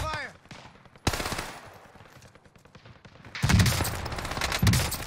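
Gunfire in the video game Call of Duty Warzone Pacific: a single shot, then a loud burst of rapid automatic fire, and later a second dense burst, with players talking under and between the shots.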